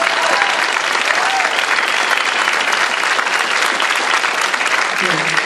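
An audience at a political debate applauds, a loud, dense and continuous clapping that holds steady for several seconds.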